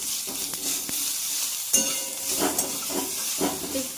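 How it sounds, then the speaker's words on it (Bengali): Ginger sizzles and sputters in hot oil with tempered spices in a pan while it is stirred for savory porridge, with a steady frying hiss and several spoon scrapes and clatters close by. "একটু কষিয়ে দেবো কাঁচা গন্ধটা করে যাওয়ার জন্য।"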